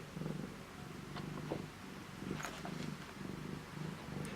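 Cat purring close up, a soft rhythmic rumble that repeats in regular breaths, faint against low room noise.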